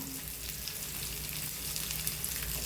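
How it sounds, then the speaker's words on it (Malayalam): Sliced onions frying in hot oil in a pan for a cooker biryani, a steady close crackling sizzle without a break, alone and without voices. "അപ്പോൾ ഞാൻ കുറച്ച് സബോള അതിലിട്ടിട്ട് ഒന്ന് വറുത്തെടുക്കുന്നുണ്ട് കേട്ടോ"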